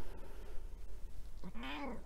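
A house cat gives a single rising meow near the end, close and clear after a short stretch of quiet room noise.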